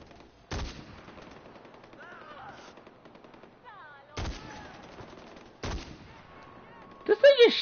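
Sniper rifle fire in Far Cry 4 comes as three loud, sharp reports spaced a few seconds apart, with quieter game sounds and a burst of noisy activity at the end.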